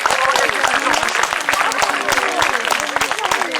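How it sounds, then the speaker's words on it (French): Crowd applause at an outdoor town festival in Épinay-sous-Sénart, rapid rhythmic clapping from many people held steady throughout, loud and near, with voices and cheering calls rising over it. "j'aimerais bien qu'on puisse applaudir la ville qui se casse un petit peu la tête."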